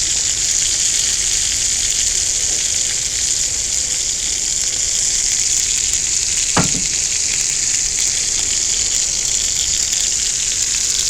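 Hamburger steak and potatoes frying on a cast iron griddle at a campsite, a loud, constant close-up sizzle with one brief knock partway through and no talking.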